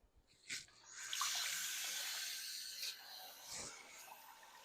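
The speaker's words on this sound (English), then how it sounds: "So I'm rinsing." Tap water running over hominy corn being rinsed in a sink, a faint continuous splash and gush with a few soft knocks and handling sounds.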